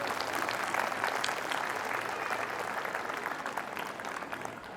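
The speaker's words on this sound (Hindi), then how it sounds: "एक बार जोरदार तालियां बजा दीजिए अपने बच्चों के लिए" An audience of parents and pupils at a school gathering claps steadily, a dense, even wash of applause with no pauses and no voices on top.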